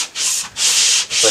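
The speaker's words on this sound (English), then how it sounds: "There's a mystery sander behind the bed." Power sander working on wood inside a cabin, a steady high whirring rasp in three close, loud bursts separated by brief pauses.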